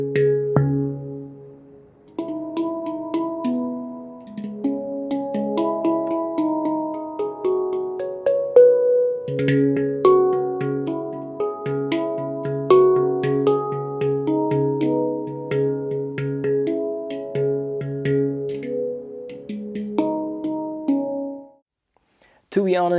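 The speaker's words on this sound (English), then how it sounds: "A handpan sounds like this." Sampled handpan from an MPC Mystical Handpan expansion, a steel hand-struck instrument playing a melodic sequence of soft, bell-like tuned tones with gentle ringing decay, clear and unaccompanied before a brief silence at the end.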